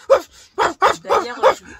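Dogs bark nearby at a poor outdoor spot, five loud, sharp barks and yips in quick irregular succession, close and clear.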